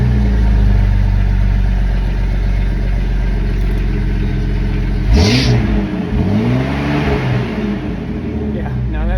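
A car engine on a hot rod tour, just after an alternator replacement, idles steadily and then revs sharply in two rising and falling sweeps, loud and close with no talk.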